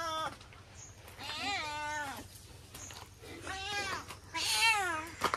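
A cat meows several times up close, each call rising and falling, with short pauses between and a faint low hum underneath.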